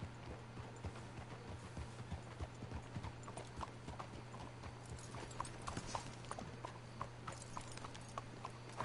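Steady clip-clop of horse hooves walking at an even pace in Red Dead Redemption II, with a constant low hum underneath and no voices.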